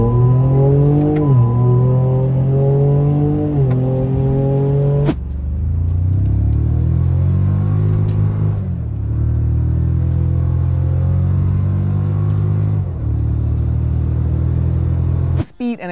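A Toyota Tacoma pickup with the 2.4L turbo i-FORCE MAX engine accelerates hard through a couple of gears, its engine note climbing, then dropping at a shift before pulling up again, loud and close from inside the cab.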